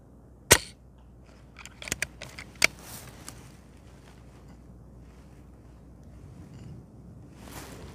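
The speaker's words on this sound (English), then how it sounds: "This is shots at 65 meters on paint cans." Brocock Sniper Mini XR air rifle firing H&N 23-grain slugs at paint cans 65 meters away: one sharp, loud crack early on, followed by a few fainter knocks and ticks, then a quiet outdoor background with some wind.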